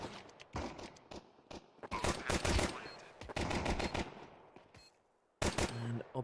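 Rapid bursts of gunfire in a Counter-Strike professional league match, sharp clustered shots in quick succession with short pauses, one final pair of shots after a brief lull, no talk over them.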